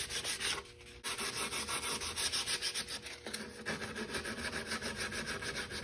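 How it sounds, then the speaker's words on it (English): Sandpaper of 120 or 220 grit rubbed by hand on a DIY centerboard bumper, steady close scratchy strokes in a quick back-and-forth rhythm with a brief pause. ".120 or .220 grit sandpaper, depending how much sanding really is going to need."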